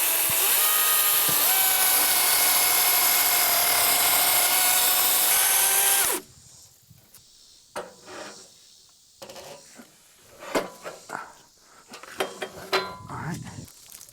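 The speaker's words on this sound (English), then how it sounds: "I think that electric chainsaws are the future" A DeWalt electric chainsaw runs cutting with a loud, steady high-pitched whine for about six seconds, then cuts off, leaving quieter scattered knocks and handling noises.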